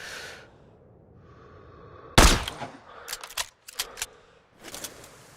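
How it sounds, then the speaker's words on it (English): A single sharp, loud sniper rifle shot cracks out in Sniper: Ghost Warrior 3 with a heavy low thump, followed by a few quieter clicks and clacks of the bolt being worked, with no talk. "Check the wind and pull the trigger"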